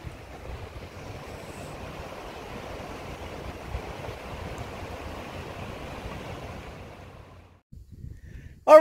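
Water flows steadily at a riverside in Cotopaxi, Colorado, with wind buffeting the microphone in a soft, continuous rush, fairly faint, easing off near the end before a brief louder noise.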